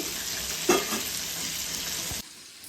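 KFC-style chicken pieces frying in hot oil give a close, steady sizzle with a brief stirring clatter early on, before the sound drops abruptly near the end.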